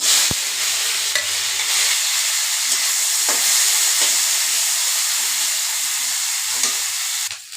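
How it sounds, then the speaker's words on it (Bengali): Dried lote fish frying in a wok, loud continuous sizzling hiss with occasional scraping stirs and knocks, no talking. "আবার আমি এটার মধ্যে সুটকি ভাজা করব হয়ে গেছে এখন হয়েছে সুটকি ভাজার পালা"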